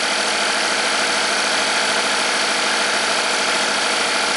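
A Chevy Equinox engine idling after repair, a loud, steady and continuous mechanical whir close to the engine bay, with no talking and no change in pace.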